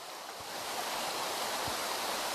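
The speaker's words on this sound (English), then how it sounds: "Just a beautiful stream. I don't know how well the sound picks up for you" A rocky stream's running water carving through solid rock, a steady broadband rush that holds close and even throughout with no voices.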